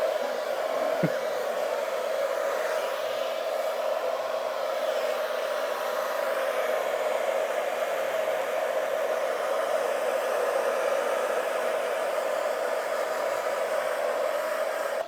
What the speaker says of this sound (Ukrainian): можна феном малювати